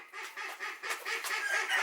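Laying hens clucking close by in a continuous, overlapping run of short calls at moderate level, with no speech.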